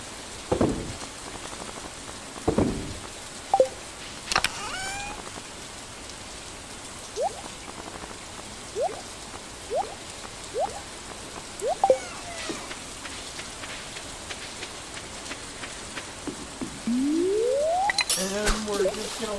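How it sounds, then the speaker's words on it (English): Steady soft rain in the Stardew Valley farming game, a constant hiss under scattered chimes, pops and rising synth tones from the game, loudest in the last two seconds. "It's raining."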